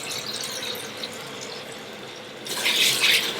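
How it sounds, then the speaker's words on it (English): A kitchen tap runs cold water for washing lentils in a steady close splash, which grows louder and brighter as the flow strikes the bowl. "So I use cold water."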